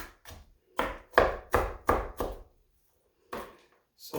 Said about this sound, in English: Now I like to chop mine up super fine